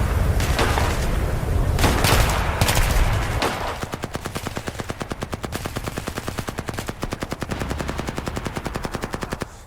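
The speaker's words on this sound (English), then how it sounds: "Small arms fire erupted from concealed positions along jungle ridgelines and valley" Bursts of small arms gunfire from jungle combat in the Vietnam War, 1969: a few heavy irregular shots at first, then a long rapid automatic stream of closely spaced reports, loud and sustained.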